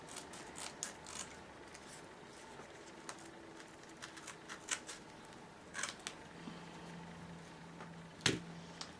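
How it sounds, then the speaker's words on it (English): Scissors snip around cardstock while trimming the excess from a fabric flower craft, a series of quiet, irregular crisp cuts and rustles heard close up, with no talking. "Now we'll get the scissors and cut around and take off all the excess cardstock"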